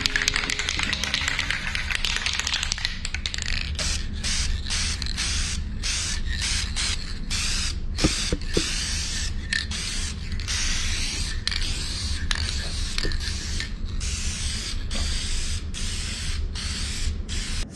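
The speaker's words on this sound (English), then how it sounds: "It's the same paint that we used, but it's in a spray can." Paint hisses from a spray can onto a guitar body in repeated bursts, a long first spray followed by a regular series of short sprays with gaps between, loud and close with no talking.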